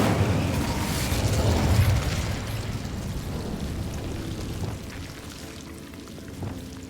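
An Incendio fire spell cast in the game Hogwarts Legacy, a loud rushing burst of flame that roars at the start and then fades into a rumbling crackle.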